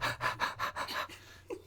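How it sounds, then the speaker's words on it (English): Heavy, rhythmic breathing: about six quick, loud panting breaths in a steady rhythm, close to the microphone, then fading out. "Heavy breathing"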